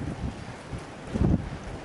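Strong outdoor wind buffeting a microphone, low rumbling gusts that swell and fade, with a louder blast near the end, close and continuous with no speech.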